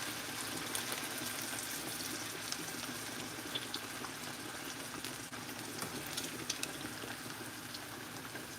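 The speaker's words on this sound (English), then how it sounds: "Rinse it off with cold water." Running cold tap water splashes steadily and continuously over raw chicken being rinsed, a dense hiss with small irregular spatters.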